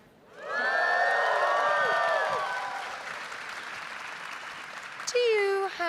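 A large crowd at a Star Wars game reveal event bursts into loud applause laced with whoops and cheers, slowly easing off before a voice begins speaking near the end.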